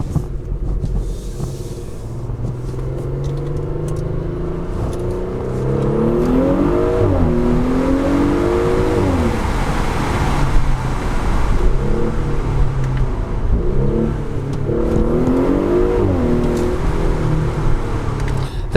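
Audi SQ5 with a 3.0-litre V6 TFSI engine revving on a downshift, a loud sustained engine rumble with rising and falling rev sweeps, heard close and alone.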